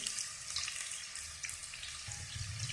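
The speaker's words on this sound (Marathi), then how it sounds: "कांदा फ्राय होत आला की" Onion frying in a pan while cooking restaurant-style veg kolhapuri gives a steady, close sizzle and crackle throughout, with no talking.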